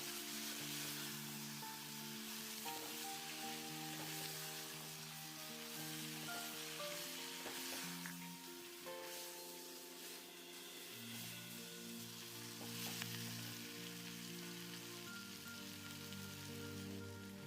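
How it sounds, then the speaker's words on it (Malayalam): Spice powders frying in oil for a Kerala-style koottucurry produce a faint, steady crackling sizzle like light rain, with occasional soft stirring, heard close and alone. "ഈ പൊടികളും കൂടെ ഇത് എണ്ണയിൽ കിടന്ന് നന്നായിട്ടൊന്ന് മൂത്ത് വരണം."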